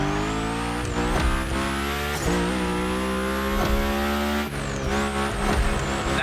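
A car slides through a gymkhana course in The Crew Motorfest, its engine droning loud and near with rising and falling revs and tires squealing through repeated drifts, with no voices.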